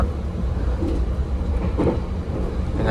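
Inside a first-generation stainless steel executive carriage on the KA Sangkuriang train to Banyuwangi, a steady rumbling ride noise fills the cabin, with faint rail clatter and rolling hum, close and continuous.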